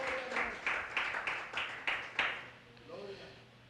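A church congregation claps together during a Spanish-language Pentecost service. Several rhythmic rounds of applause come fast and even, then they fade into a quieter room with faint voices.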